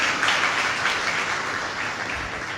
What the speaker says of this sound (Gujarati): સૌપ્રથમ જૈત્ર માટે ફરી એકવાર તાળી પાડો